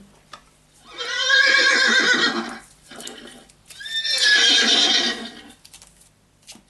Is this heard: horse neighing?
yes